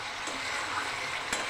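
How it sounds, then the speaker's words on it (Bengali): Spice paste and potato sauté in a pan with a steady, soft sizzle, and a couple of brief stirring scrapes break through the low, even frying noise. "মশলাটা একটু কষিয়ে নিতে হবে"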